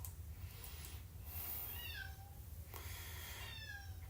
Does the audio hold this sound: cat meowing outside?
yes